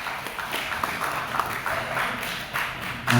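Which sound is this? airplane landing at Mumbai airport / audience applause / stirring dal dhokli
audience applause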